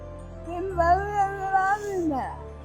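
A tomcat lets out one long, drawn-out meow up close, rising then sliding down at the end, with a low background hum.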